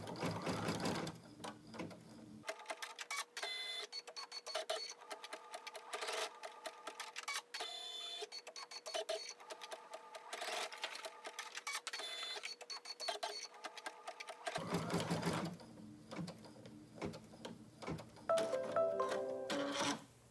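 Embroidery machine stitching tack-down lines for elastic placement on a HEPA-lined face mask in the hoop: a continuous, rapid mechanical stitching rhythm, close and steady, with a shift in pitch and texture partway through.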